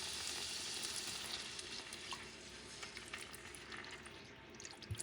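White wine hits a hot pan for clams and sizzles loudly, a dense bubbling hiss up close that slowly settles, with a few crackles near the end.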